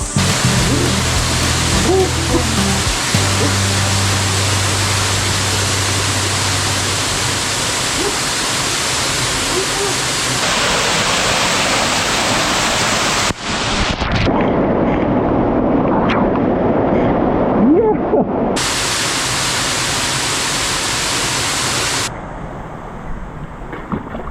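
A waterfall in a mountain valley stream at Daecheong Valley in Jangyu, Gimhae, with a steady broadband rush of falling water throughout, shifting in loudness as the listener moves, with some wind buffeting the microphone.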